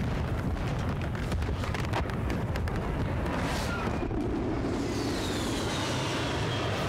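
Attack aircraft strafing gun run in Battlefield Bad Company 2, a sustained roaring rumble of cannon fire and explosions with a jet sweeping through, dense and continuous throughout.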